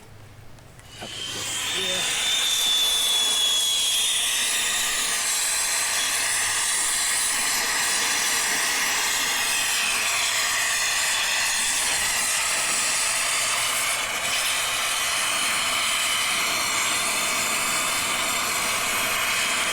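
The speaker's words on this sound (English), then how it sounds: "the flame is directed towards the fitting itself, not the copper pipe itself, but the fitting" A torch flame heats a 3/4-inch copper pipe fitting during a bathroom plumbing job, starting with a quick ignition and then roaring as a loud, steady, close hiss that holds for the rest of the stretch, with no talk.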